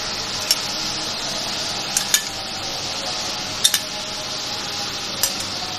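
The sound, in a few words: yogurt being added and stirred into frying chicken pulao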